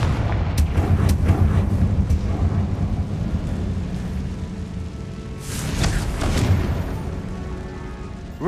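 Confringo fire-spell blasts in the Hogwarts Legacy video game, a continuous heavy rumbling roar with booming low-end impacts and a fresh burst of crackling explosions partway through, loud throughout with no talking.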